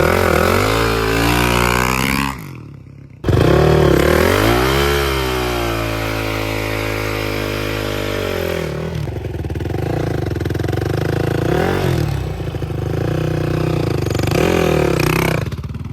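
A dirt bike engine revs hard and repeatedly during failed burnout attempts on sketchy homemade tires, its pitch climbing and falling in long loud surges, with a brief cut-off before it roars back.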